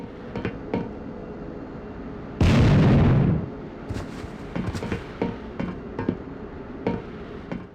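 Grenades explode in the first-person shooter Hellforces: one loud, close, booming blast dominates, followed by scattered sharper pops and thuds as gunfire and impacts continue more quietly.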